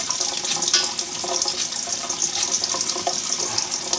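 Tap water runs steadily into a sink to soak peeled potatoes, a continuous close splashing hiss with no talk.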